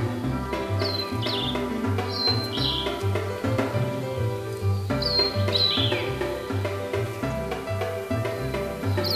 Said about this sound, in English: is a very common bird species we can see in this forest